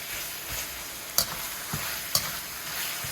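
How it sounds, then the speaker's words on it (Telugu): Mutton frying in a pan, a steady close sizzle with a few sharp clinks of a spoon stirring against the metal, no voices. "ఇది బాగా వేగాలండి."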